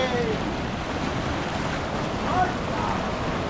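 Fast-flowing water of the Murti river at Rocky Island near Kalimpong, a steady broadband rushing roar, close and unbroken, mixed with wind buffeting the microphone.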